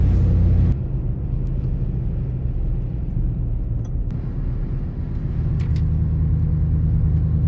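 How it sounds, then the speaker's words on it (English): A steady, loud low rumble comes from a vehicle driving along while towing a trailer home from a stave mill. The engine and road noise are continuous and close throughout, with faint ticks now and then. "We're heading home right now to drop this trailer off"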